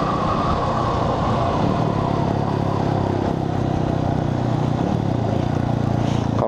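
A motorcycle engine and exhaust rumble close by on a street in Brasília, with a steady, loud drone that carries a constant pitch throughout, and no voices over it.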